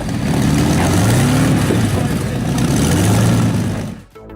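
A custom car built on a 1930 Bentley, fitted with a tank engine and 24 exhaust outlets, rumbles loud and deep with revving surges, then drops off abruptly at the end.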